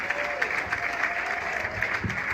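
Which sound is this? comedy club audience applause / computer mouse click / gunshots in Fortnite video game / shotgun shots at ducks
comedy club audience applause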